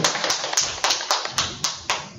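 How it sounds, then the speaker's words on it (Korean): A small gathering of about ten people at a talk on united-front tactics for activists claps to welcome the speaker, with sharp, fairly regular claps in a short near burst and no talking. "주제를 박수로 청해 듣도록 하겠습니다"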